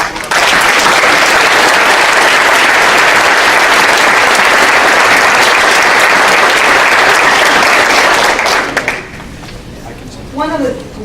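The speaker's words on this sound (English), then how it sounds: "Let's give them one final round of applause." Loud, sustained applause from an audience at a college alumni award assembly, a dense wash of clapping for the award recipients that holds steady for about nine seconds, then drops away into a quieter room with faint voices.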